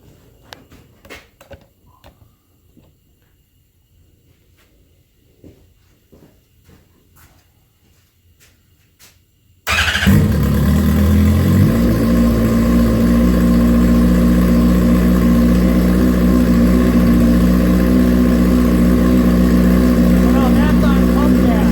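A dual fuel motorcycle running on gas starts up abruptly after quiet handling noises, then settles into a loud, steady, close engine idle that continues without a break.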